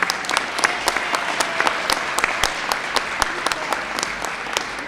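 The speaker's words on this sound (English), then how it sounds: "let's give Cheryl another round of applause" Audience applause for Cheryl at a Borough Hall event marking a crocheted-items donation for autism awareness: steady, dense clapping from a sizable crowd, close and continuous, with sharper individual claps standing out.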